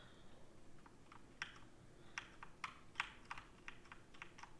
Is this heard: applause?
no